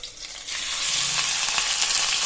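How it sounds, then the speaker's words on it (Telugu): Chicken frying with onions in a hot pan gives a dense, even sizzle that swells after a quieter start and holds steady, close and unaccompanied by voices. "ఆనియన్ ఫ్రై అయినాయి ఇప్పుడు చికెన్ వేసుకుందాం"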